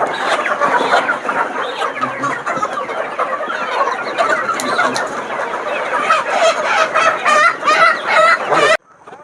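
Many chickens being loaded into a vehicle for sale cluck and squawk together, loud and close, a dense continuous flock noise that cuts off abruptly near the end.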